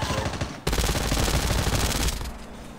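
A sustained, fast burst of automatic gunfire from a weapon in Call of Duty Mobile battle royale, loud and close, starting abruptly and running for about a second and a half before cutting off.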